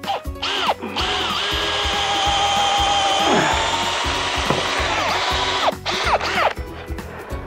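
A power drill bores into a living tree trunk through a drill guide, its disinfected bit driving in with a loud, continuous motor whine that bogs and rises under load, with a few sharp knocks at the start and end.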